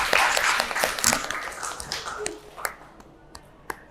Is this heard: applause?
yes